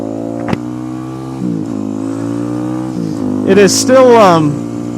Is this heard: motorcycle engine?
yes